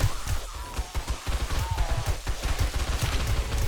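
Rapid, continuous gunfire from a gun in the zombie survival game 7 Days to Die, a dense stream of close, punchy shots firing several times a second without a break.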